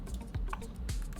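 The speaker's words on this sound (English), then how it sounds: "hit U on our keyboard" A key pressed on a computer keyboard gives a couple of soft, close clicks in a short, quiet moment.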